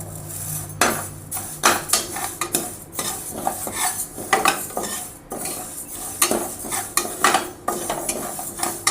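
Moong dal is lightly dry-roasted in a pan for ven pongal, with rattling scrapes and clinks of a metal spoon stirring the lentils against the pan over a faint sizzle, close and busy.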